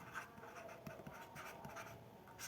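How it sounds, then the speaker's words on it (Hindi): Chalk or pen writing notes on a board during a Hindi geography lesson, faint scratchy strokes in short bursts at low level, no talk. "इसके बारे में यहाँ पे लिखता हूँ"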